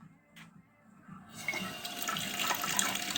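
Water runs from a tap into a bucket to make a roughly 10% PVA and water mix while a shower tray is being installed, a steady splashing flow that starts after a quiet moment and carries on close and moderately loud.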